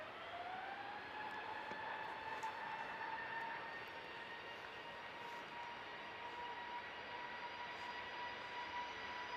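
An EasyJet airliner taking off at Manchester Airport, a distant steady engine roar with a rising whine that levels off, heard alone with no talk.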